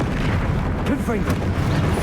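Confringo blasting spell in Hogwarts Legacy, a booming explosive burst with crackling debris amid dense game noise, landing about midway through a short stretch of loud continuous effects.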